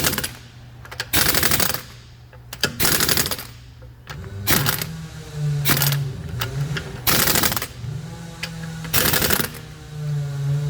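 Impact gun on its weakest setting tightening lug nuts on a 2021 Subaru WRX STI wheel, firing roughly six loud rattling bursts of one to two seconds each, with a low compressor-like hum filling the pauses between them.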